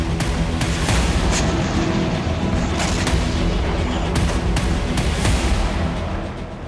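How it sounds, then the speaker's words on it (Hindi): Israeli bombardment of Beirut, heard as dense continuous rumbling with repeated sharp booming thuds, loud and steady throughout. "बैरूत में एक के बाद एक कई धमाके रिपोर्ट हुए"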